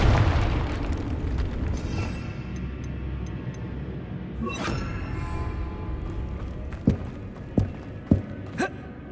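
Confringo fire spell blasts in Hogwarts Legacy gameplay: a rumbling game soundscape with a sharp mid-clip burst, then a rapid series of four punchy impacts near the end, with no talk.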